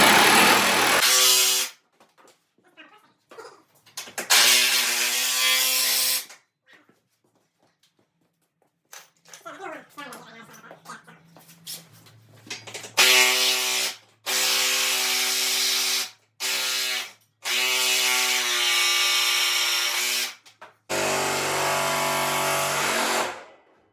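An impact wrench runs down engine bolts on a budget F-body car built from junkyard parts, firing in loud, rattling bursts of a few seconds each, separated by pauses filled with quieter clinks and handling noise.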